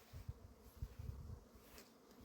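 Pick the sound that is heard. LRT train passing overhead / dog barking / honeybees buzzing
honeybees buzzing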